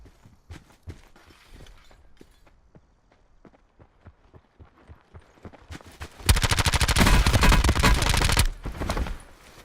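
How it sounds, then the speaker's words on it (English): Cordite assault rifle firing in a Blackout battle royale video game, a fast sustained automatic burst lasting a couple of seconds, loud and close, preceded by quick footsteps and lighter scattered shots. "I find the Cordite to be honestly just as reliable, and the rate of fire on it is fantastic"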